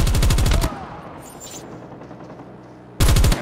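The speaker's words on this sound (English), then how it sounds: "I got shot! Be advised, hostile sentry gun spotted." Rapid automatic gunfire from a hostile sentry gun in a video game, two loud bursts of evenly spaced shots at the start and end with quieter battle noise between.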